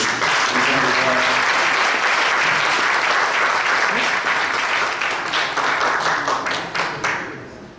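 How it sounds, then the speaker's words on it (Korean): A large church assembly gives encouraging applause to three honored guests at a Seoul Presbyterian seminary delegates' gathering: dense, loud clapping from many hands that holds steady, then thins into a few scattered claps before fading. "큰 격려의 박수 한번 드리겠습니다"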